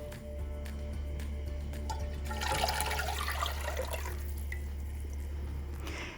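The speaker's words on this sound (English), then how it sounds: "Add 8 cups of water to a pot." Tap water is poured into a pot to make brine for zucchini pickles, a steady splashing rush that swells in the middle and then settles over a low constant hum.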